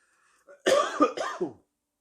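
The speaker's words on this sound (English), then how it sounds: "since having this cold, I just want to cough" A few harsh coughs from a person with a cold come in a quick cluster, close and fairly loud, preceded by a small throat sound, then silence.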